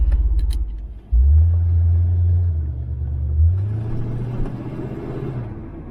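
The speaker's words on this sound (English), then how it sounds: "this car always starts up faithfully" A 1981 Pontiac Trans Am with a shaker hood scoop cranks briefly, then catches and settles into a deep, loud, steady idle rumble close by, with a slight rev near the middle.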